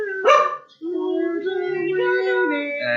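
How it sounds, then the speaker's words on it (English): A dog gives a single sharp bark near the start, then pauses briefly before tonal music or sustained notes carry on. "Why did he bark?"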